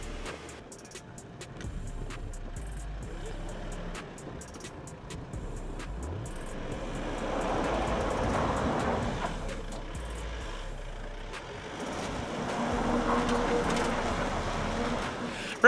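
An Isuzu D-Max pickup truck powers over an off-road obstacle, its engine revving in two rising surges at moderate distance, with no talk.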